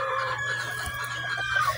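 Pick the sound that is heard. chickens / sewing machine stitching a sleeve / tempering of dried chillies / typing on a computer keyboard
chickens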